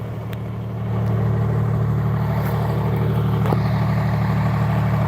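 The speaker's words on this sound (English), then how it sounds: "we're about to do our first dyno pull" An 1800 HP compound-turbo Cummins diesel on a dyno holds a steady, loud low drone that swells after the first second and stays constant at high load, with faint metallic ticks on top.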